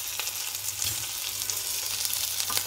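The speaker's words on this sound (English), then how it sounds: "The prawn's frying nicely there." Prawns fry in a pan, giving a steady, close crackling sizzle with small pops throughout.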